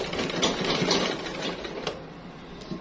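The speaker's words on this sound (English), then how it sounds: "You just turn it and continue sewing." A sewing machine stitches a Grecian neckline on a top, giving a fast continuous mechanical whirr that eases off briefly toward the end.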